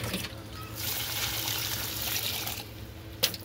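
Water being poured onto a drying curry leaf plant, a steady trickle and splash running throughout at close range, with a brief sharper clink near the end.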